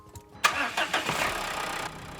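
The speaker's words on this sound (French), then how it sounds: "je peux démarrer le véhicule qui est en panne" A broken-down car that has just been jump-started cranks and catches, with a sharp onset and then a sustained engine roar that cuts down in level near the end.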